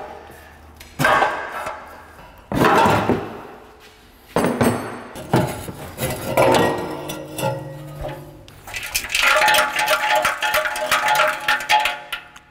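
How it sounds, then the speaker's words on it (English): A muffler being taken off an Integra Type R rattles and clanks in a home garage, giving several loud separate metallic knocks and jangles followed by a longer burst of rattling near the end. "Is it a baby rattle or a muffler?"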